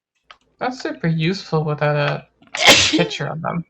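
One loud, explosive sneeze bursts out at close range right after a person speaks a short sentence.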